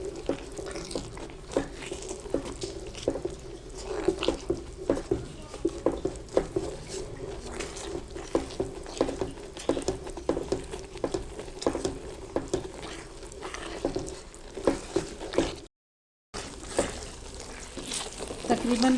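Egg halwa mixture roasting in ghee, stirred continuously with a spoon, giving a steady pattering sizzle with repeated scraping strokes at close range and no talk.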